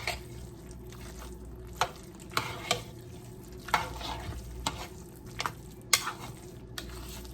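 Chicken, broccoli and vegetable casserole ingredients stirred together in a pan, with a soft continuous scraping and sizzle broken by sharp clinks and taps of the utensil against the pan at irregular intervals.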